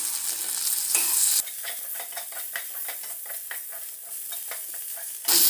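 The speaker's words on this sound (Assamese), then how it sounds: "ভালকৈ ভাজি লৈছোঁ। আদা নহৰুৰ কেঁচা গোন্ধটো যাতে গুচি যায়।" Ginger, cumin and coriander spices sizzling and frying in oil for a garlic fish dish, a steady close hiss with stirring scrapes, briefly louder at the start and end.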